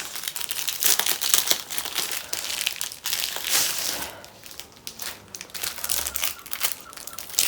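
Crinkly tape is peeled and torn off a package while a canvas is unboxed. The crackling, rustling pulls come in irregular bursts, close and fairly loud, with no talking.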